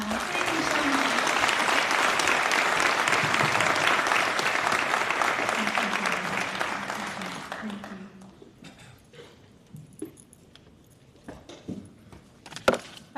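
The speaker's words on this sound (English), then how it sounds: "Let's give our panelists a round of applause." Applause for the panelists at a chamber of commerce annual membership meeting, loud and dense at first, then fading out after several seconds into scattered room noise and a few knocks.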